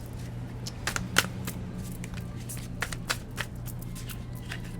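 Light Seers Tarot cards are shuffled by hand, giving soft quick riffling and flicking clicks in short bursts over a low background hum, close and fairly quiet.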